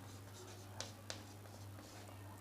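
Marker or chalk scratches across a classroom board in short strokes, with a couple of sharper taps, faint and close over a steady low electrical hum.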